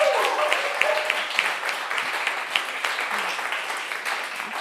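Steady audience applause at a live radio concert broadcast, the WDVX Blue Plate Special, after a singer's set, with scattered distinct claps in a moderate, continuous wash and a voice briefly audible at the start.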